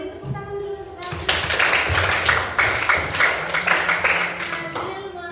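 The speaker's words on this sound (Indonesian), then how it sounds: "Beri tepuk tangan dulu untuk Azril" Applause and clapping in a junior high school classroom burst in after a short spoken line, a dense steady patter of many hands that carries on for several seconds under a teacher's continuing voice.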